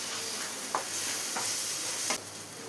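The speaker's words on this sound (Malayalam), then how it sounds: "ഇതെല്ലാം കൂടെ ഒന്ന് മിക്സ് ചെയ്തെടുക്കാം" A spoon stirs a prawn biryani roast with fried onions in a pan, giving a steady sizzle with a few soft scraping strokes, close and alone without talk.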